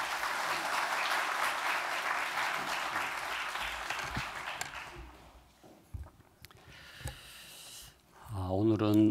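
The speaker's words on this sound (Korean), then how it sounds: "우리 박수로 한번 모시겠습니다" A church congregation applauds to welcome the pastor at a Sunday worship service. The clapping is steady and full at first, then dies away into quiet room sounds before a voice begins speaking at the end.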